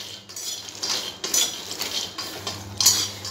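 Dry fruits for atta-gond laddoos roast in a pan while a spoon stirs them, giving a steady run of light metallic scrapes and clinks at close range with no talking.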